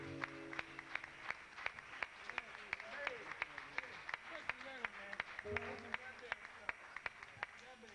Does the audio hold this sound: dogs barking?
no